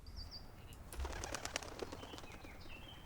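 Sound design for an animated short: quick whooshing bursts of birds' flapping wings, mixed with faint chirps and high tweets, fairly soft and close, with no talk.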